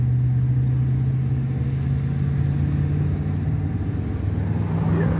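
A vehicle goes by on Skyline Drive in Davis Mountains State Park, heard from inside a vehicle: a steady low engine rumble and road noise, fairly loud and continuous, swelling slightly toward the end.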